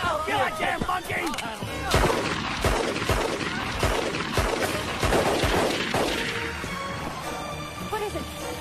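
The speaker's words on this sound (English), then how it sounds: "What is it? Gunshots." Sharp gunshots crack through a chaotic action-film scene, several spaced bursts landing over roughly seven seconds amid dense background sound and shouted voices.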